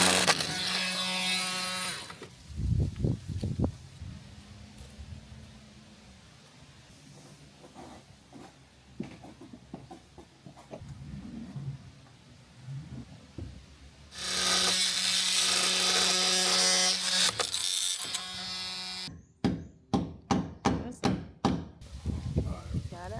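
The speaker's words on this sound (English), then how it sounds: "metal blade for the multi-tool, and we can cut those off" An oscillating multi-tool fitted with a metal blade cuts during a treehouse build, sounding as two loud, steady buzzing bursts of several seconds each, with people talking in the quieter stretches between them.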